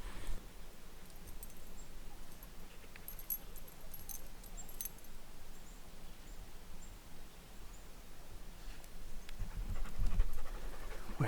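A dog pants quietly and rhythmically while roaming through woods, the faint breathing steady against soft rustles and a light outdoor hiss.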